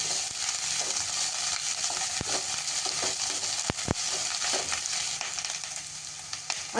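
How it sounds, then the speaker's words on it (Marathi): Vegetables sauté over a high gas flame with a continuous loud sizzle, broken by sharp clanks and scrapes of a spatula against the pan. "आपण गॅसची फ्लेम मोठीच ठेवलेली आहे आणि त्यावरच सगळ्या भाज्या परतून घेतोय"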